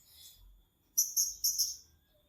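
A small bird gives a quick series of four high, bright chirps in two pairs, with a fainter twitter just before.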